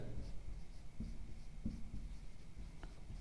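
Chalk or marker scratching on a board during a physics lecture on numerical aperture in optical fibre, a string of short strokes and taps under faint room noise, with occasional quiet speech.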